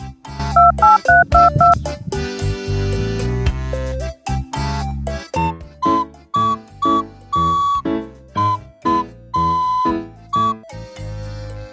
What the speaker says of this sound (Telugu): ఫోన్ చేస్తున్నాం మరి